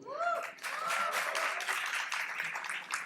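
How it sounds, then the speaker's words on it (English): Audience in a festival hall at an OTT India fest applauding, a steady dense wash of clapping that swells after a brief opening voice and stays loud, with voices mixed in. "There are not enough claps in this room."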